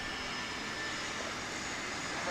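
An Airbus A319 airliner arriving at DFW International Airport gives off a steady, broad engine roar that holds evenly throughout, distant and fairly faint with no voices.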